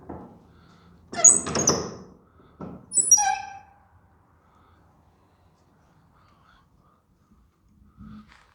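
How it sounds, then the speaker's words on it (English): Heavy 15th-century moulded oak south door of a church in Witham, Essex, opening: a loud rasping creak and groan, a shorter creak and a high squeal of hinges, then quiet with a faint thud at the end. "The south door itself is really heavy oak, and it's got a moulded door with ribs."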